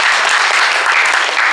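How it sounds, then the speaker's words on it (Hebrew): An audience at a Knesset youth conference in Ashkelon claps loudly and steadily, a dense and continuous round of applause. "מגיע לכם מחיאות כפיים"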